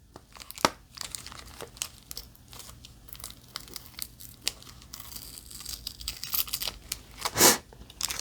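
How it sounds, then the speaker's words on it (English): Tape being pulled off a cardboard box, making a run of crinkling, tearing rips close by with uneven rhythm, ending in one louder, longer rip near the end. "if you pull the tape off, it wants to pull the cardboard off."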